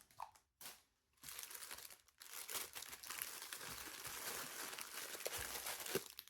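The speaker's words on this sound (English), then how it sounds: "it's not going to be the ribbon crinkling" Plastic craft packaging from bins of ribbon crinkles and rustles up close, in irregular bursts that settle into continuous crinkling.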